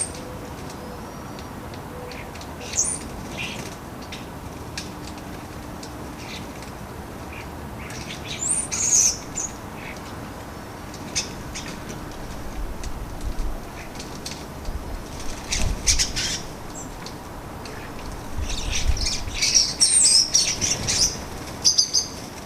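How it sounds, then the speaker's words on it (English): Starlings, including feisty juveniles, gather at a garden water bowl, with bursts of wing flapping, splashing and chirps scattered over quiet background noise, growing busier toward the end. "the starlings make the most of the water bowl."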